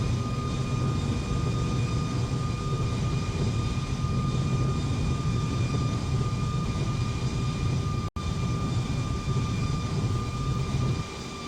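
Airliner engines in the X-Plane flight simulator on approach to Palma: a steady, continuous engine drone with a constant whine, unbroken and even throughout apart from a momentary dropout, with no talking.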